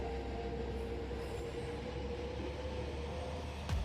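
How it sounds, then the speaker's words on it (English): Steady rolling rumble of a train running straight on rails in a video game, continuous and fairly loud with a faint rail squeal near the end, no voices. "Except this train goes straight."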